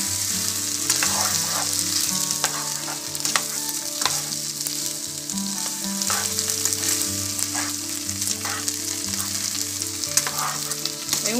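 Poblano pepper strips frying with potato and onion in a pan, giving a continuous crackling sizzle with scattered pops over a background of quiet music, with no voices.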